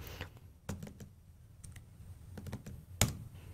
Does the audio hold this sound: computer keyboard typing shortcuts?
yes